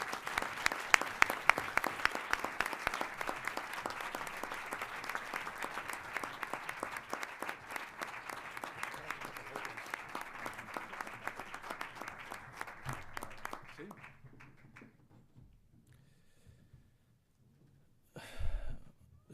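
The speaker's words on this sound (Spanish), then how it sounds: "Un aplauso fuerte, por favor." Loud audience applause at a national education award ceremony, dense clapping for about fourteen seconds that thins out and fades, followed by a brief near rustle.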